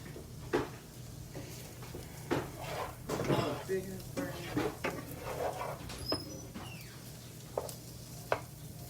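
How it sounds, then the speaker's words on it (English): Soul food being stirred in a pot at home, with irregular scraping and clinking of a utensil against the pot over a steady low hum, while people talk nearby. "Let me stir this around."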